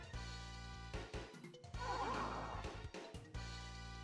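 A horse neighs in the Breath of Fire III video game, a shrill whinny rising and falling over a steady synthesized music backdrop, close and fairly quiet, with no talking.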